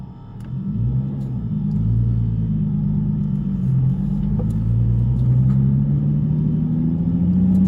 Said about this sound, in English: I just can't believe how much you can hear the turbo noises